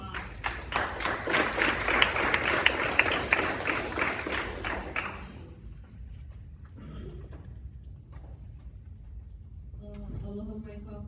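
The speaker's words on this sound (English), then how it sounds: "Let's give her a round of applause" Audience applause at a high school pitch competition during a symposium, a brief burst of many hands clapping for about five seconds, then it stops abruptly and a voice begins speaking over quiet room noise.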